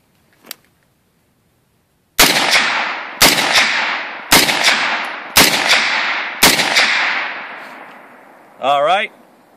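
Five loud, evenly spaced 300 Blackout rifle shots outdoors at night, each a sharp crack with a long ringing decay, after a faint early click, ending with a brief voice.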